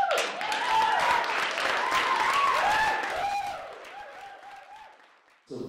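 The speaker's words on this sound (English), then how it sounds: "please, give a big round of applause for Lila Rodriguez" Audience at a National Poetry Month poetry evening applauds a poet after her reading, dense clapping mixed with rising and falling voices cheering over it, fading toward the end before a brief burst.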